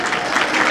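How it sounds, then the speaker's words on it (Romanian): Audience applause greeting a contestant named Renata at a Romanian school beauty pageant, a steady dense wash of clapping hands filling the whole moment with no voices. "Aplauze pentru ea!"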